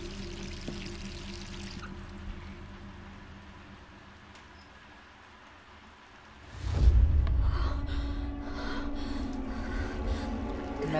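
Water from a tap in the video game Resident Evil bursts on partway through and keeps flowing as a steady, full stream after a quieter stretch of ambient hum.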